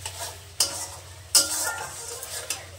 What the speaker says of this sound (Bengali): এবার মশলাটাকে সুন্দর করে কষে নেব।